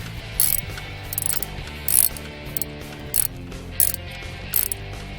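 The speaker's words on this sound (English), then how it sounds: "So now I'm going to torque it in." Torque wrench ratcheting while tightening a spark plug insert during a blown plug repair, sharp close clicks in short bursts repeated about six times, with quiet gaps between strokes.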